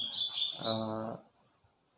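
Lovebirds in breeding cages give a brief burst of high, sharp chirps and a harsh buzzing call, fairly close and quiet, followed by a faint single peep.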